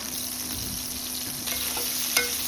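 Chunks of lamb sausage sizzle steadily in a pot, a continuous close frying hiss with a few faint clinks and a brief sharper crackle near the end, no talking.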